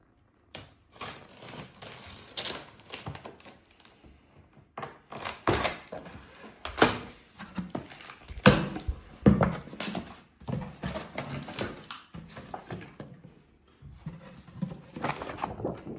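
Repeated tearing and ripping of packing tape and cardboard flaps while unboxing a Roborock robot vacuum with docking station, sharp crackling pulls interspersed with rustles and handling noises, close by.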